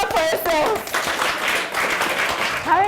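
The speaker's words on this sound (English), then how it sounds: "Okay, clap for yourselves." A group of young women and girls at a youth outreach gathering clap for themselves, a continuous mass of handclaps with a voice heard briefly at the start and again at the end.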